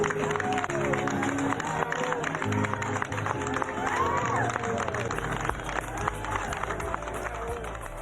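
Medical staff clap to send off recovered COVID-19 patients leaving a hospital. Dense, steady applause from a crowd runs throughout, mixed with voices and some tonal background sound.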